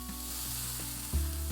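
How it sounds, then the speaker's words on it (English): Garlic, ginger and peppers sauté in avocado oil in a hot pan for pad kee mao, a close, constant sizzle with a soft stirring bump toward the end. "garlic, ginger, and peppers. Sauté for 2 to 3 minutes."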